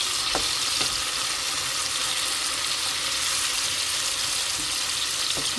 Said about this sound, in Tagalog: Ayan, mix well.